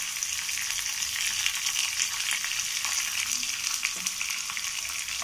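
Curry leaves and a pinch of asafoetida crackle and sizzle in hot oil for a dosa batter tempering, a steady close hiss with sharp pops throughout and no talking.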